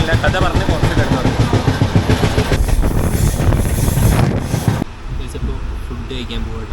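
Interior of a moving long-distance passenger train in India, a loud steady rumble and rattle of the carriage that drops to a quieter hum near the end, with people talking over it.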